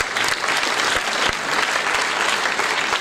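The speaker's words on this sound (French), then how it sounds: "et j'aimerais que vous applaudissiez" A hall audience at a national party council meeting in Vendôme gives sustained, steady applause, with many hands clapping evenly and close for the whole stretch.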